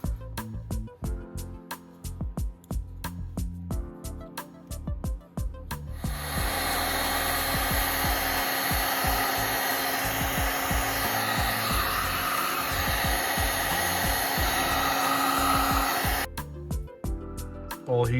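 A heat gun blows steadily for about ten seconds, shrinking heat shrink tubing over soldered wires on an OBD0 to OBD1 harness conversion for a 1990 Honda Civic B16A hatchback, preceded and followed by clicks and handling noises.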